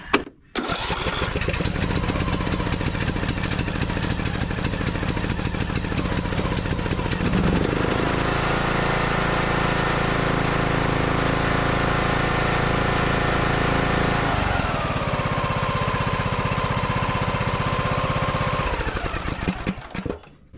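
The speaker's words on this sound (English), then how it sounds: "let's crank it, see how long it takes for that thing to start spitting fuel up there" A John Deere D110 lawn tractor engine, choked, cranks steadily and keeps turning over with a loud, continuous mechanical drone that shifts in pitch partway through, with no talking over it.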